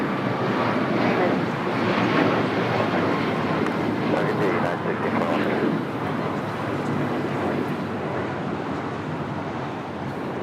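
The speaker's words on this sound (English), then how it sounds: "JetBlue Airways Flight 1731 coming in from Salt Lake City" A JetBlue Airways airliner, flight 1731 arriving at LAX from Salt Lake City, rumbles as a moderate, steady roar from some distance, easing a little in the final seconds.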